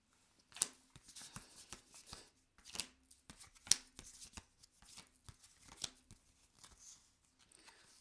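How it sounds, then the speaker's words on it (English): Tarot cards being separated and shuffled, a quiet run of crisp card flicks, riffles and soft slaps at an irregular rhythm, close by with no talking. "Let me separate these cards."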